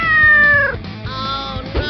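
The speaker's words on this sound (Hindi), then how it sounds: "पकड़ो इस बिल्ली को" A cat gives two loud, close meows in quick succession, the first drawn out and falling, the second shorter, with no talking.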